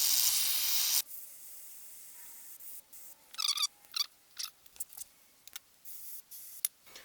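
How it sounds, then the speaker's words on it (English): A loud burst of brake parts cleaner sprayed onto a dirty snow blower carburetor, followed by a series of short quieter spray bursts and clicks, close up, no talk. "First we're going to spray it with some brake part cleaner just to clean up the body of the carburetor a little bit."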